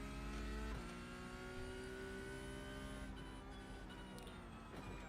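A Porsche race car engine pulls hard out of a hairpin, a loud sustained revving tone climbing and shifting, with other engine noise layered beneath.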